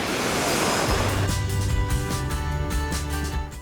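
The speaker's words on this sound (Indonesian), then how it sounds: "Pantai Krokoh mempunyai ombak yang tinggi dan dibentengi tebing dan bukit karang." High surf breaks at Krokoh beach on Java's south coast, facing the Indian Ocean between cliffs and coral hills: a single loud, close wave crashes, then hisses and rumbles as it washes out.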